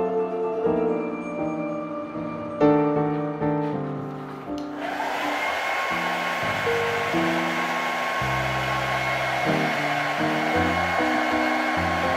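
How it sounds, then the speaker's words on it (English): A hair dryer switches on midway to dry paint on a poster and runs steadily with a loud whooshing hum, over soft music playing in the background. "We're also using a blow dryer to accelerate the drying"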